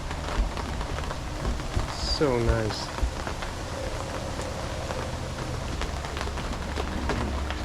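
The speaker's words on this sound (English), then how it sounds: "You can feel the temperature change now that it's raining." Rain falls outside beneath an awning, a steady close patter and hiss on the surfaces, with a brief spoken comment and a few other small sounds partway through.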